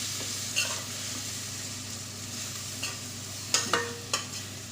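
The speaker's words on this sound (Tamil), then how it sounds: "அதில் மசாலா பொடி சேர்த்து லைட்டாக 2 கிண்டிட்டு" Masala powder is stirred into hot sesame oil for a brinjal gravy, a constant close sizzle broken by a few sharp scrapes and taps of a spoon against the pan, with no speech.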